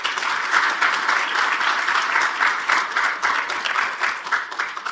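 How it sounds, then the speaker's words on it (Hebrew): Conference audience at an economic policy institute event breaking into sustained applause, dense rapid clapping from many hands, steady and loud for the full five seconds with no talk over it. "ואני חושב שלהם מגיעות מחיאות כפיים."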